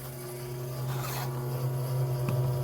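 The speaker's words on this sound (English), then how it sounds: "So we hit the spindle motor. You can hear in the background that is not its true speed." Lathe spindle motor under Mach3Turn control running below its true speed, a faint steady low hum with a rough scraping texture in the background.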